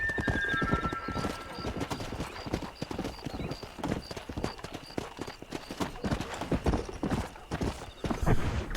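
In Red Dead Redemption, a horse gallops in a fast, continuous drumming of hooves, with a short neigh at the start and rapid beats carrying on throughout.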